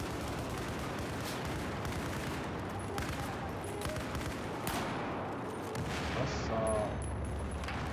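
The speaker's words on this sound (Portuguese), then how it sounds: "Na verdade eu não tô acostumado a usar esse sniper, né?" Sniper rifle fire and battle noise in Battlefield 4 on Operation Locker, a dense continuous din of distant shots and rumble with a few sharper cracks.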